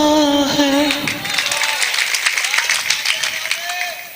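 An audience at a shayari recitation in Uttarakhand breaks into clapping on cue, dense and fairly loud applause swelling right after a sung line and carrying on steadily to the end.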